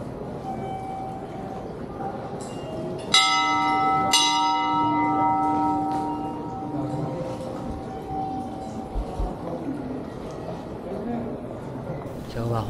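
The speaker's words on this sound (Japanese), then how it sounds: "帰りにも鐘を鳴らそうと思います" A large temple bell at a festival in Moji, Japan, is struck twice, about a second apart, each ring booming and humming away slowly while people talk in the background.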